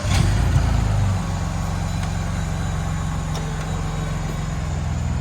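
A Gen 2 Ford Raptor fitted with an aFe intake starts up close by. It gives a loud burst as it fires, then settles into a steady, deep idle rumble.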